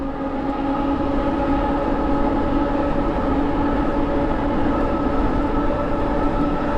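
A dual-motor electric bike runs at speed with a steady tonal motor whine and a constant rushing wind and road roar throughout, loud and close.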